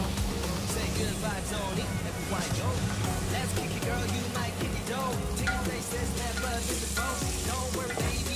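Ginger and chili sautéing in a small amount of cooking oil for sinigang na bangus, a steady dense sizzle running throughout while someone talks over it.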